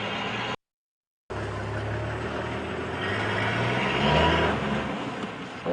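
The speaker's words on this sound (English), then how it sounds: "There's another game drive going past in a car that sounds like an 18-wheeler truck." A safari game-drive vehicle that sounds like an 18-wheeler truck rumbles past at moderate distance, a low engine drone that swells to a peak and then eases off, after a brief cut in the sound.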